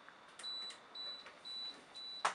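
A camera self-timer gives four evenly spaced high electronic beeps, fairly quiet and close, followed by a short sharp click at the end.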